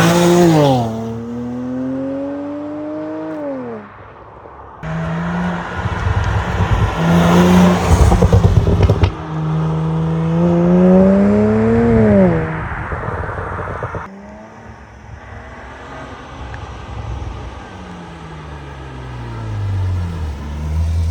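A tuned 2007 BMW 335i revs hard and accelerates through several gears, the engine pitch rising and dropping in repeated loud sweeps with crackling bursts between shifts, no talking.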